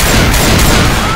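Dense, loud volley of gunfire from shooting zombies in Left 4 Dead 2, rapid shots blending into a continuous roar with no gaps across the moment.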